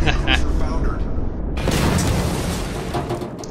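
Explosion of a ship in the naval combat video game World of Warships, a sudden loud broadband boom that swells and rumbles on, with players talking over it.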